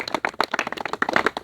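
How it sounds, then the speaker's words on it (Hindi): A crowd gives loud, lively clapping to welcome a guest at a direct-selling event, quick dense hand claps close by, bursting in an irregular rapid rhythm. "जोरदार तालियां बजती रहनी चाहिए"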